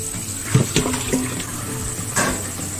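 Cold tap water runs over raw chicken pieces to rinse off foam before making chicken stock, a steady splashing stream with a few louder splashes and knocks.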